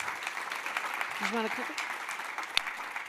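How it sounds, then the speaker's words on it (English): An audience at a coding competition applauds the finalists with steady, moderate clapping while a voice speaks briefly over it. "Let's give a round of applause for all the finalists."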